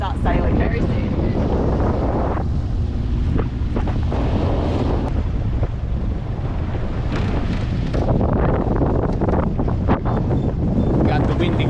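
Strong sea wind buffets the microphone aboard a sailboat, a loud continuous roar with rushing water and waves beneath, and an idling engine may sit low in the mix.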